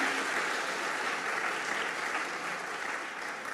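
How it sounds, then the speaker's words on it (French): Steady, dense applause from a conference audience, continuous and fairly even throughout, with no speech over it. "On peut les applaudir pour cette première partie."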